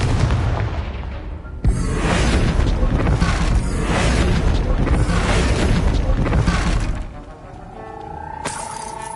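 Confringo explosion spell in the Hogwarts Legacy video game, a sudden loud blast followed by several seconds of roaring, shattering debris that fades out before a bright chime rises.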